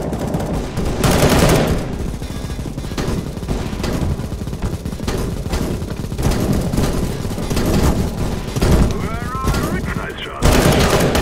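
Gunfire in the video game CS:GO rattles almost nonstop, rapid automatic bursts and single cracks layered over one another, loud and close, with voices talking underneath.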